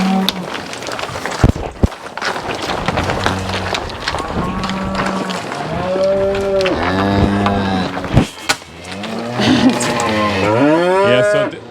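Several cattle moo repeatedly on a farm during pregnancy scanning of in-calf cows, loud and close, with long overlapping calls and some background movement; people speak briefly in between.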